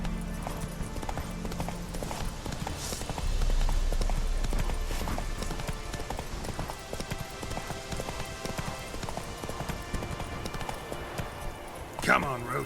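Hooves of a galloping horse in The Witcher 3 pound in a steady clip-clop rhythm under game music and a spoken voice, with a brief louder swell partway through.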